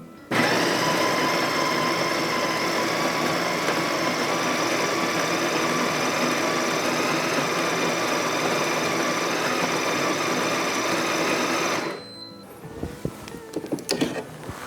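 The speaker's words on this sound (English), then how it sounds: "We're ready to grind our beans." A Ninja Luxe Café Premier espresso machine grinds coffee beans with a steady, loud mechanical whir that holds for about twelve seconds, then stops, followed by light clicks and handling noises.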